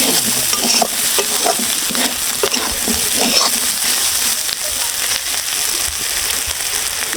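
Small crabs fry in a pan in a village kitchen with a loud, steady sizzle and crackle. Faint stirring scrapes run throughout and no one speaks.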